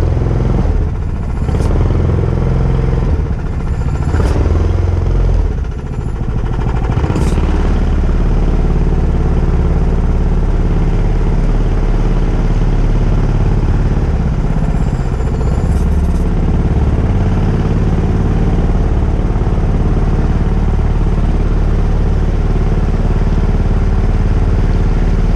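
Tillotson 212E small engine running steadily on a Mokai jet boat on a river, a continuous loud rumbling drone close by, with a few clattering knocks early on and no talk.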